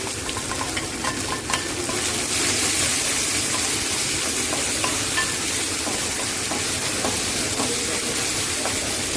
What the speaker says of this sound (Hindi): सो अब इसमें हम डालते हैं अपना जिंजर गार्लिक और ग्रीन चिली पेस्ट।